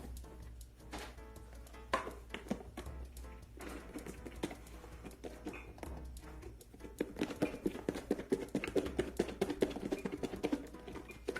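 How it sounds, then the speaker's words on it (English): Shrimp pieces being shaken in batter to coat them, a faint irregular patter and soft clattering that grows busier and denser toward the end, with no talking. "I'm gonna shake this a few times just to make sure each of the pieces of shrimp are fully coated in this batter."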